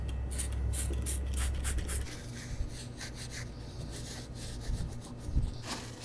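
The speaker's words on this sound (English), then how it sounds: "I'm going to spray this onto the paper towel off to the side and then just wipe" Soft, steady rubbing and scrubbing strokes of a paper towel wiping a Jeep XJ valve cover, close by and fairly quiet, repeating irregularly with no talking.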